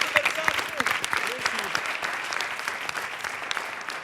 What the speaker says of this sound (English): let's give Gianmarco a little bit of applause.